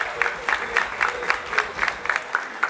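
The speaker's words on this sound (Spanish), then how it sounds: "Fuerte aplauso." An audience at the opening of a provincial youth festival applauds loudly and steadily, with a rhythmic, unison-like clapping pulse running through the whole stretch.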